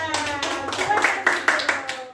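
Schoolchildren clap their hands together in a class, a run of sharp claps with a few louder accents, close by, with children's voices mixed in.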